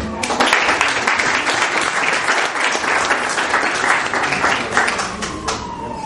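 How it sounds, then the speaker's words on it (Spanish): A hall audience at a lecture on Peruvian literature breaks into dense, sustained applause for the speaker, a continuous full wash of many hands clapping at once, loud and steady for several seconds. "Pido un aplauso para el expositor"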